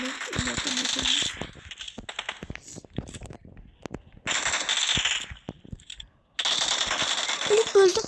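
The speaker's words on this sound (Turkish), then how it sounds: "Birini vurdum." PUBG gunfire comes in sharp bursts of rapid automatic shots, three loud clusters separated by quieter gaps, with a person talking between and over the firing.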